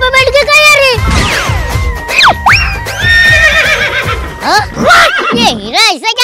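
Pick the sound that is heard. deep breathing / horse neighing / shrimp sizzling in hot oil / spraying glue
horse neighing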